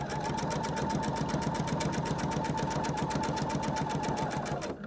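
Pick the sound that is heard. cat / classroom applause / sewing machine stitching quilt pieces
sewing machine stitching quilt pieces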